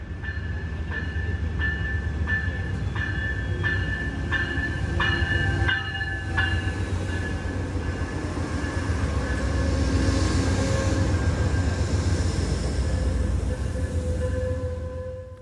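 The Amtrak Coast Starlight passenger train rolls into a station with a steady, loud rumble, a repeating horn-like tone early on, and faint wheel squeal as it slows.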